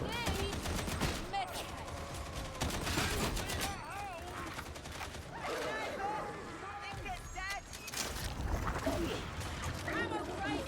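Sniper rifle fire in the video game Warhammer Darktide, sharp reports cracking amid a dense barrage of other gunshots and in-game chatter, with a voice talking over the combat throughout.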